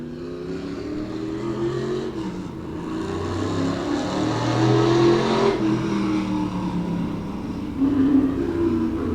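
Race car engine at Claremont Motorsports Park, revving and accelerating at steady loud volume, rising toward the middle and again near the end, with no talk over it.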